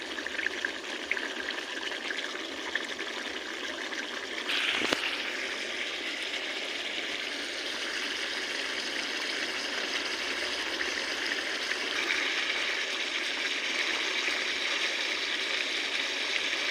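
Boiled banana stem (pasla) with its liquid pours into a pot, a continuous close watery trickle and stream that holds steady for a long stretch, with a brief knock near the start and no speech.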